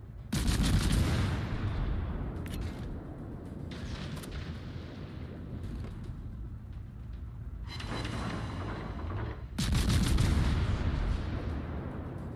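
Warship guns fire in World of Warships as heavy, booming salvos with rumbling tails, several loud bursts spread across the stretch and separated by quieter rolling battle noise.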